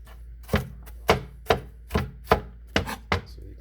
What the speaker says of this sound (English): that I got for cutting up my vegetables and my meat